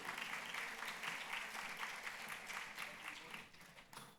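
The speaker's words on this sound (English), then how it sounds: "give him another round of applause" Faint, steady applause comes from a conference audience for a speaker on a panel about journalism. The distant wash of clapping continues throughout and tapers slightly near the close.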